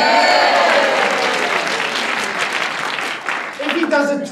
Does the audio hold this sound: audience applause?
yes